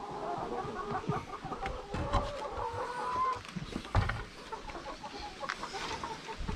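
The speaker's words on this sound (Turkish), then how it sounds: "Bakın horozumuz yine tavukların kapısının önünde bekliyor." Chickens clucking with a rooster among them at a henhouse door on a farm, a steady busy chatter of close overlapping clucks and calls with no talking.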